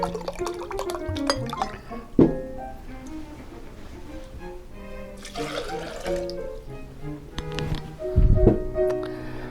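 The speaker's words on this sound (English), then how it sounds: "And now a cup of spring water." Spring water poured into a dish while making a no-bake apple pie: splashing and trickling liquid in a few separate bursts, with light clinks of kitchenware between them.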